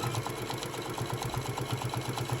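A sewing machine runs steadily while stitching a decorative quilted hot pad, its needle mechanism making a fast, even, rhythmic chatter at close range with no talking.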